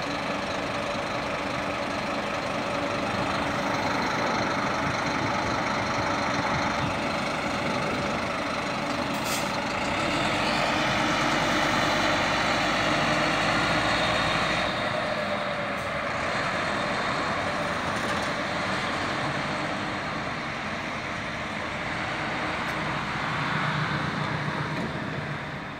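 A heavy diesel engine of a 2020 Scania K340 interstate bus idling steadily, a deep rumbling drone that swells slightly midway, heard close with no talking.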